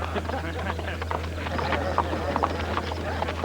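Horse hooves loping through brush, a steady rhythmic clip-clop of a stout horse close by, with a low hum underneath and a speaking voice.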